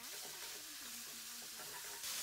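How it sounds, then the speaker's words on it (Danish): Chicken pieces and vegetables fry in oil in a pan, giving a steady dense sizzle and hiss with faint stirring scrapes throughout, close and continuous, with no talking. "Imens grøntsagerne og kyllingen steger"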